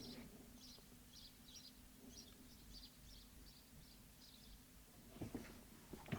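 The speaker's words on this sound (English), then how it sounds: "when we open the door, the sparrows are there, loads of them" Sparrows chirp around a roof nest just beyond an open door, their faint, quick calls repeating over a low steady hum, with closer handling noises and bumps near the end.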